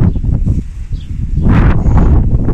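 Gusty wind buffets the microphone, producing a rough low rumble with rustling that swells stronger toward the end.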